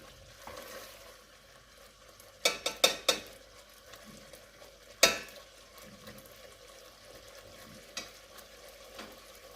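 Spiced masala frying in oil for a potato and egg curry, stirred in a pan: a soft, low sizzle broken by a few sharp spoon scrapes and clinks against the pot.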